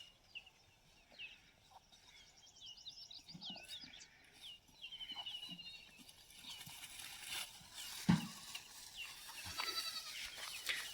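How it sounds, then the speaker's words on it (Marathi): Goats on a farm are fed fodder while faint bleats rise over quiet rustling, with a few bird chirps in the background and a sharp knock near the end. "ए माऊली खाऊ दे की शेळ."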